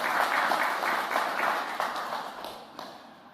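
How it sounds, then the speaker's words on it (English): Indoor audience applauding a speaker at a government announcement in Windsor, Ontario: a steady wash of many hands clapping, moderately loud at first and gradually fading out over a few seconds. "they're clapping because I pronounced that right"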